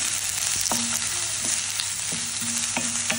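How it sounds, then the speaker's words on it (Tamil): Two long-sliced onions fry in hot oil in a pan, a steady loud sizzle with occasional clinks and scrapes of a stirring spoon. "எண்ணெய் சூடானதும் இதில் வந்து இந்த மாதிரி நீட்டமாக கட் பண்ணி வச்சுருக்கிற ஒரு 2 வெங்காயத்தை சேர்த்துக்கிறேன்"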